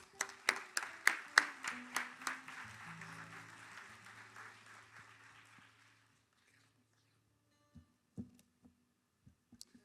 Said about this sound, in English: please give a round of applause to our Aidan Connolly